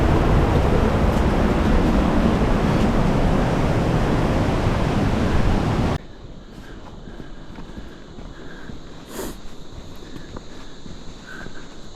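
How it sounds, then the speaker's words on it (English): Roaring waterfall on the Annapurna Base Camp trek in Nepal, a loud steady broadband rush that drops abruptly to a quieter, more distant wash of falling water halfway through. "This amazing waterfall just ahead."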